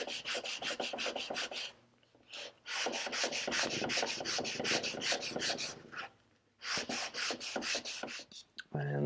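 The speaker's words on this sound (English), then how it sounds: "we got to sand a little bit of material off on each side" Wooden chair back slat being sanded down by hand, rough rasping strokes repeating in steady bursts with short pauses between, close and clear with no talking.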